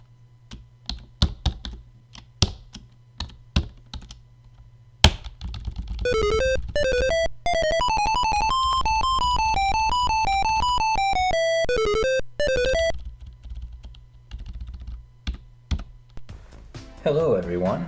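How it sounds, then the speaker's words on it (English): Close, clicky typing on the small built-in keyboard of a 1997 Compaq C140 Windows CE handheld, scattered keystrokes at first and then a long steady run of quick taps, with a tonal electronic sound playing underneath for several seconds. "It's actually really easy to type on this thing."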